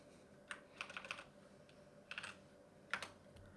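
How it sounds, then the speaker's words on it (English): Quiet keystrokes on a computer keyboard as a command is typed, coming in short clustered bursts with brief pauses between them, close and soft, with no talking. "So we're going to type in node"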